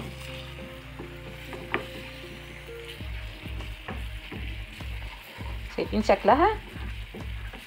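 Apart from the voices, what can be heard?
hot chili sauce frying and being stirred in a pan for koshari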